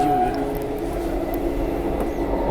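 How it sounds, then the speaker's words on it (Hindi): A Vande Bharat Express train at Sangaldan railway station on the Katra–Srinagar line gives a steady, continuous rumble with a sustained tonal hum throughout. "कटरा से श्रीनगर जाने वाली वंदे भारत की यहीं पर क्रॉसिंग भी हो गई है संगलदान रेलवे स्टेशन पे"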